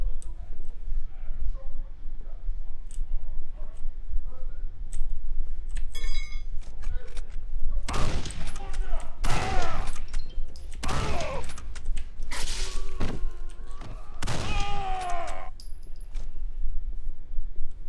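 Gunfire in the horror video game Condemned: several loud, sharp bursts of shots in quick clusters over the second half, with a person talking over the action.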